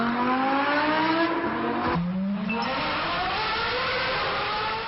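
A high-RPM supercar engine revving hard, a loud continuous rising wail with a brief dip and gear-change shift midway before climbing again, close and dominant.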